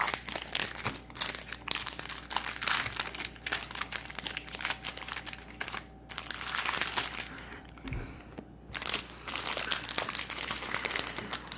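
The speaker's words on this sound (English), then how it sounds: "pretty excited to open these Skybox Free Willy 2 trading cards" A 1995 Skybox Free Willy 2 trading card pack being torn open, with dense crinkly wrapper crackles and rustles going on continuously at close range and brief pauses between bursts.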